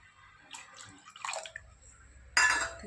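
A small splash of water lands in a pan of milk, heard as a few short, close, uneven splashes and trickles, the last burst the loudest.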